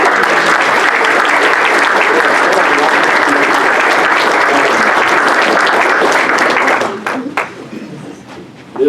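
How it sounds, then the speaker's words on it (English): Sustained loud applause from an audience at a county board of education meeting for a junior high softball team, dense clapping for about seven seconds before thinning out into scattered claps. "give them a round of applause"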